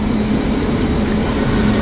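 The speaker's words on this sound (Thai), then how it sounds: "เดี๋ยวเราจะนั่งรถไฟสายนี้ไปนะคะมาแล้วค่ะ" Train pulling into a station in Aachen, Germany: a loud, steady rumble with a sustained low drone and broad wheel-and-rail noise, close by and with no talk over it.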